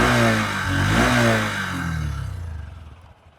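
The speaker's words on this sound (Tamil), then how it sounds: "வண்டியோட அந்த என்ஜின் சவுண்டுமே வந்து பார்த்தீங்கன்னா நல்லா ரிஃபைண்டாக ஸ்மூத்தாகவே வந்துருக்கு" A 2026 Honda SP125 125cc motorcycle engine revs briefly then settles and fades toward a quiet idle with a faint ticking pulse, close up and loud with no talk.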